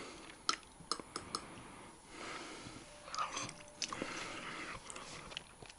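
Close-up eating of pike fish soup cooked in an autoclave jar, with wet chewing, smacking clicks and sniffing breaths in irregular bursts, no talk.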